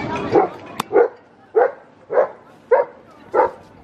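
A dog barks in a steady series of about seven sharp woofs, evenly spaced, fairly close, with no talking.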